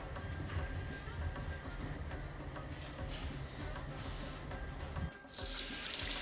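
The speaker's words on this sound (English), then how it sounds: "Wash the chicken, put it in cold water." Kitchen tap runs steadily into a sink while chicken is washed, a continuous close hiss of water with a brief change in flow near the end.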